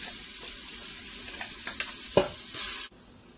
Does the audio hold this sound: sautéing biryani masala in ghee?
yes